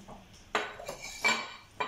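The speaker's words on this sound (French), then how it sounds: "je sors le couvercle" A metal lid comes off a hot foie gras terrine dish just out of the oven, giving three sharp clattering scrapes and clinks of metal on ceramic, close and distinct over quiet.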